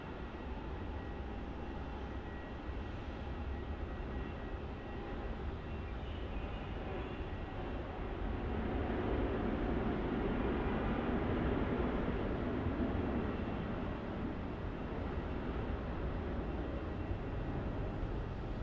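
An airplane landing at Melbourne Airport gives a steady, distant jet roar that swells gradually midway and holds as a broad rumble, with no talk.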